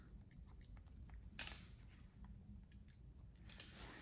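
Quiet scissors snip at the front layers of a pixie haircut, giving soft, irregular close-up clicks with one sharper cut partway through, over a faint low room hum.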